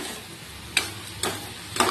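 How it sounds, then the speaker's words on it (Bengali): Peas and shrimp fry in a kadai under a low steady sizzle, broken by three sharp scraping stirs spaced about half a second apart, close and distinct, with no one speaking. "একবার এটা নাড়ছি, একবারে এটা নাড়ছি, এইভাবেই চলছে।"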